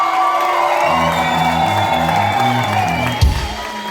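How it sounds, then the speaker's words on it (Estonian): Live crowd at a Tartu album launch concert cheering and clapping for a band member, loud and sustained over a droning band chord with a sharp thump near the end. "Aplaus Jaanus."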